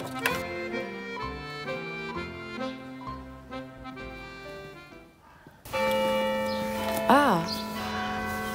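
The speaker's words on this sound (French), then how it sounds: "Toutes les heures, on entend les cloches de l'église." Church bells ring in Riquewihr, Alsace, with resonant tolling strokes that hang and overlap, then a fuller, louder peal that keeps sounding steadily.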